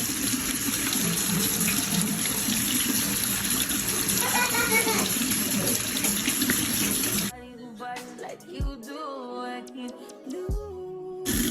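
A kitchen tap runs to rinse off food before cooking. A steady, close rush of water pours for about seven seconds with faint splashing, then cuts off, and a voice speaks over quiet background music afterward.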